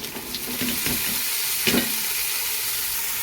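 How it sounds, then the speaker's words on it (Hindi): Pumpkin pieces dropped into hot oil with fried spices, giving a steady close sizzle and hiss with a few scrapes and one louder stir, no talk. "अब हम कासी फल ऐड करेंगे इसके अंदर"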